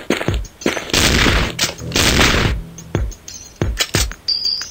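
Gangster shotgun blasts in the video game Gun Mayhem: a run of loud, booming shots, some spaced apart and a couple of longer roaring bursts, with sharp thuds between.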